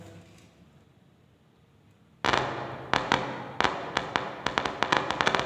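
A repaired subwoofer speaker bursts into sound after two seconds of near silence, giving loud punchy thumps and sharp hits in an uneven, quickening rhythm.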